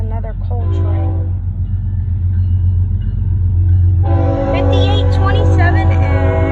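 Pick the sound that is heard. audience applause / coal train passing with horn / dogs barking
coal train passing with horn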